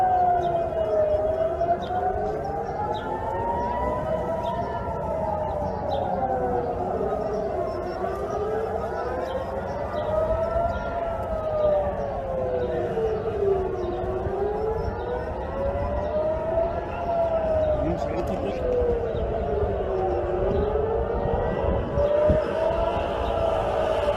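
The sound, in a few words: air raid siren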